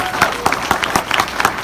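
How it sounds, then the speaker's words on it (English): A small audience at a business talk claps in a brief, uneven round, close and fairly loud, with individual hand claps distinct in a loose rhythm and faint voices mixed in. "Can we give that a round of applause?"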